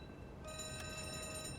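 Distant ship alarm bell ringing in a night-time U-boat convoy video game, a continuous metallic ringing with a steady tone rising in after a brief lead-in, faint and far off.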